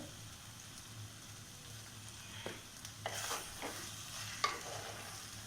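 Chicken masala frying in a pan gives a soft, continuous sizzle, broken by a few sharper stirring scrapes and clinks of a utensil against the pan, quiet and close with no voices.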